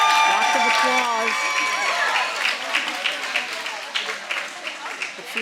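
Crowd applause at a sheep and wool festival, a broad steady wash of clapping that rises and then continues with scattered louder claps, with voices and whistling tones mixed in near the start.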